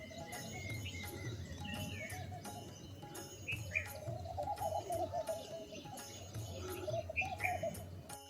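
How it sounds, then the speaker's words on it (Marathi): Small birds chirp in short, scattered bursts at a distance, faint against a quiet morning outdoor background on a hill, with a low steady hum. "पक्ष्यांचा छोटा छोटा आवाज किलबिलाट."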